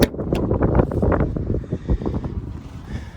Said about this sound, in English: Wow, it's so windy, guys